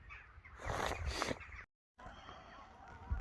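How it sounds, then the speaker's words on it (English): Geese honk and squawk noisily a short way off downstream on a river in winter, a cluster of harsh calls with a brief gap before more. "Certainly lots of shouting and bawling going on by the geese downstream of me."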